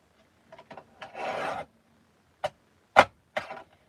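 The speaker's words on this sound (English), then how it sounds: "I'm going to line up this line with the edge of this safety guard on my trimmer. So that's where I'm cutting." A paper trimmer blade cuts through card stock, making a few short scraping rasps followed by one longer sliding cut and several sharp, close strokes.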